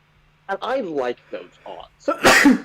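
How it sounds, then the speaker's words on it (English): A person talks briefly, then lets out a loud, sharp sneeze close to the microphone near the end, an abrupt burst after the speech. "Sorry. Gesundheit."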